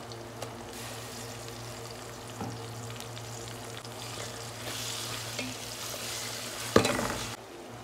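Ginger garlic paste goes into onions frying in hot oil, producing a continuous close sizzle with occasional stirring and one sharper clatter near the end.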